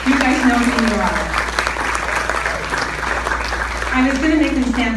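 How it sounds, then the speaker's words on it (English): Audience applause after a call to thank the organizing committee at a 2019 Peace Day speech event, a dense, sustained wash of clapping that continues throughout with voices mixed in. "could we have a round of applause for the organizing committee?"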